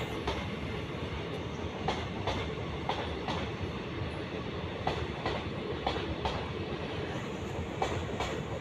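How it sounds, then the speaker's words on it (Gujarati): A railway train passing close by, its wheels clattering rhythmically over the rail joints in a steady rumbling run with no voices. "જો ટ્રેન આવી તમને બતાવું."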